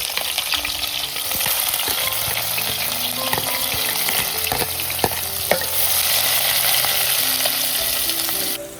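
Onion fries in a pan with whole spices (black pepper, cinnamon and bay leaf), a loud continuous sizzle broken by repeated spoon scrapes and taps.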